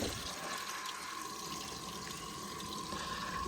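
Water flowing into newly installed farm water lines as a valve is slowly opened to purge the air, a faint, steady hiss and trickle that runs evenly throughout with no talk.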